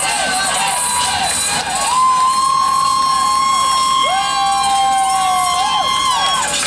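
Crowd at a women's gymnastics meet between Air Force and Clemson cheers and shouts loudly throughout, with high sustained whistles or screams riding above the roar.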